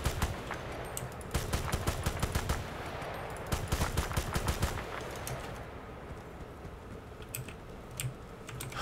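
Gunfire from the video game Battlefield Bad Company 2 rattles in rapid automatic bursts of sharp cracks at moderate distance, with pauses between volleys and scattered single shots later on.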